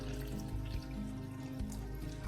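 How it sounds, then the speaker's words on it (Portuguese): Warm water pours onto yeast and sugar in a bowl, making a steady close trickle and splash with a faint gurgle, continuous and moderately quiet with no voices. "E vai acrescentar a água morna"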